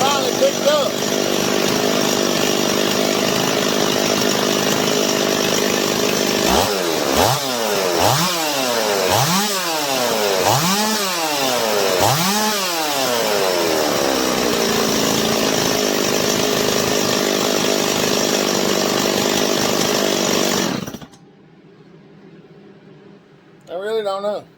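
A Stihl 026 chainsaw runs loud and close after a hard start. It idles roughly and revs up and down several times, then cuts off abruptly near the end.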